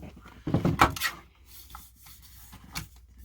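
Card stock is trimmed to size for a handmade Thanksgiving card in a close, brief scrape-and-slice, then a few quieter rustles.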